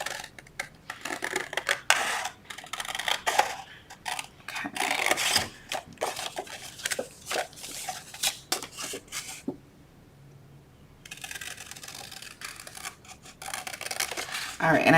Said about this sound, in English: Just made a slot big enough to cut with my larger scissors